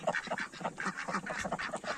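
A crested duck quacking in a farmyard, a run of rapid, close, nasal quacks in quick succession with short gaps, fairly soft and with no talking.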